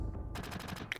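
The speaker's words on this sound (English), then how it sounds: "Barrett, thank you for shooting yourself." Gunfire in the video game Final Fantasy VII comes as a quick rapid burst of several loud, close shots within about a second.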